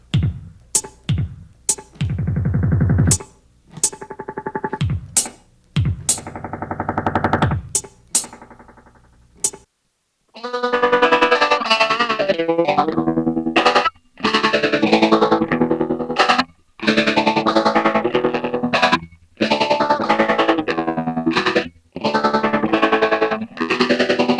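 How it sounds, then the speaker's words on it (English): Choppy, gated hits of sampled drum sounds run through Moogerfooger pedal feedback controlled by an expression pedal, sparse at first, then giving way to dense, distorted, resonant bursts in a stuttering rhythm. "still controlling the feedback now with the expression pedal, but we're triggering some sample drum sounds instead."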